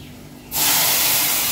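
Raw mango pulp tipped into a hot tempering of curry leaves and garlic for kairi kadhi: an abrupt, loud sizzling hiss erupts and carries on steadily at close range after a quieter start.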